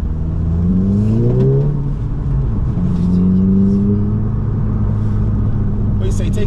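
Mercedes CLA45 AMG engine revving hard, with rising pitch sweeps as it accelerates through gears, then a steady loud drone from inside the cabin, with voices talking over it.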